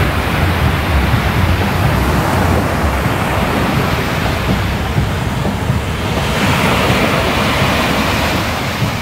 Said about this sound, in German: das ist der eigentliche Strand von Midigama